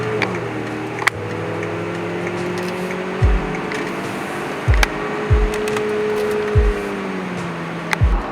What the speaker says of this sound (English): when you pass that notch, you're telling the car that you mean business, you want to accelerate